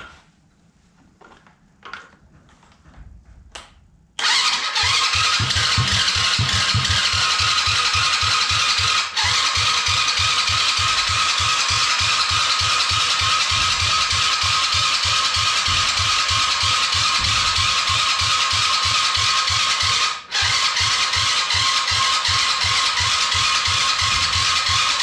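A quad's engine is cranked with a booster pack. After some faint clicks, a loud, continuous starter whir sets in with a fast rattling pulse. It grinds on for about twenty seconds with two brief breaks and never catches.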